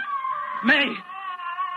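A record plays cats meowing, with one stronger meow rising above a steady tonal background. Its sound is fairly close and muffled.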